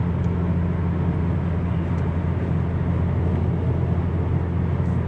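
Inside a 2015 Chrysler 200S AWD with a muffler delete, cruising on the highway at about 2200 RPM, the engine gives a steady, even low drone with road noise and no talking.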